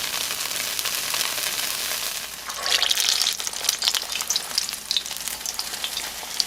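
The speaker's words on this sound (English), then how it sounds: "make sure you have enough oil there to crisp up your tortilla" Corn or flour tortilla crisping in hot oil for chipotle adobo chicken tacos, a steady close sizzle with crackling bursts that grow louder and busier partway through, no talk.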